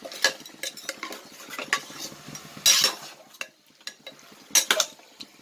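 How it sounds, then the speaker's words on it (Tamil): Mutton being sautéed with ground curry leaves in a pan, heard as irregular stirring scrapes and clinks of a utensil against the pan, close and moderately loud, with no talking. "நல்லா வதங்கட்டும்."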